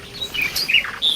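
A bird at a dove's nest in a tree gives a quick run of thin, high chirps, close and fairly clear, lasting barely over a second.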